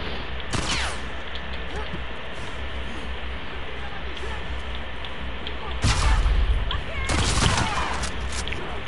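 Gunfire in the video game The Last of Us Part II: sharp bursts and booming shots over a constant rumbling background, with a heavier cluster of shots near the end and no talk.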